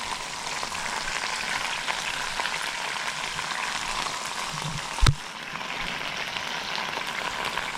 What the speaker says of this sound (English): Grilling on George Foreman grill.